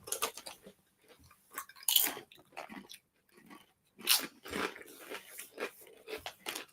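Someone bites into crunchy, kettle-style snack chips, producing repeated loud crunches close to the microphone in an irregular chewing rhythm, with brief quiet pauses between bites.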